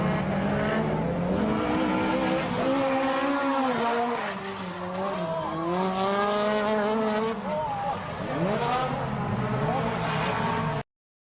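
Several HPI drift cars slide through the first corner of YZ Circuit, a valley track, with engines revving and wailing in shifting pitch and tires squealing, steady and loud under a voice talking throughout.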